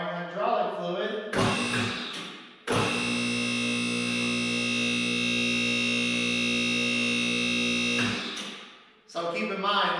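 A workshop hydraulic vehicle lift pump switches on and runs, drawing hydraulic fluid from its reservoir: a loud, steady mechanical hum and whine that holds for several seconds before cutting off, with voices before and after.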